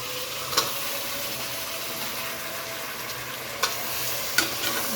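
Chicken pieces are stirred in a frying pan with a steady, close sizzle running throughout and a few sharp scrapes of the utensil against the pan.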